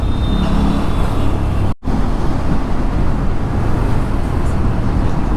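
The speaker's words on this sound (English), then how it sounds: "It's creating some heavy traffic here." Heavy road traffic at night with long tour buses: a loud, dense roar of engines and tires close by, broken by one abrupt brief dropout.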